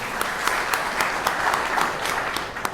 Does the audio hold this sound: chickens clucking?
no